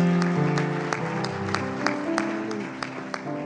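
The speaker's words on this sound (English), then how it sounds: "Give the Lord another hand clap." A church congregation claps during worship, with scattered rhythmic hand claps over sustained tones and murmuring voices, fairly close and moderately loud.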